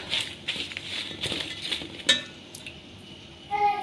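Cut chillies being mixed with salt and turmeric in a metal bowl, giving irregular close clinks, scrapes and light clatters with a sharper knock partway through, no voices.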